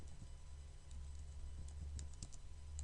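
Fast keystrokes tap on a computer keyboard while HTML link code is typed, quiet, close clicks in an uneven rhythm over a low background hum.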